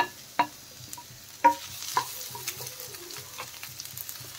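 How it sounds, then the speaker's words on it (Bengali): Vegetables with chopped cabbage are stir-fried in a pan for a Maggi noodle spring roll filling, giving a soft steady sizzle broken by several sharp clacks of the spatula against the pan. "এখন আমি এর মধ্যে দিয়ে দিলাম বাঁধাকপি"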